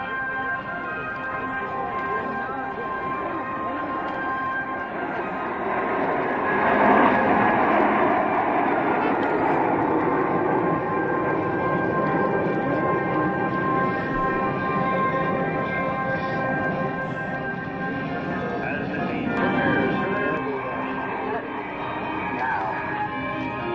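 Aircraft of the Snowbirds aerobatic team roar overhead in a sustained, broad engine drone that swells around the middle and slowly fades, with voices talking underneath.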